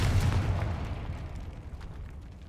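Fiery Confringo blast spell from Hogwarts Legacy, a booming explosion that hits hard at the start and then rumbles away into a long, fading roar, with no talking over it.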